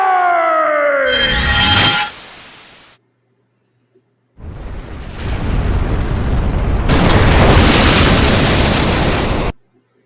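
Bombs explode in the Final Fantasy IV video game: a falling whistle leads into a roaring blast, then silence, then a longer rumbling explosion that swells loudly and cuts off abruptly.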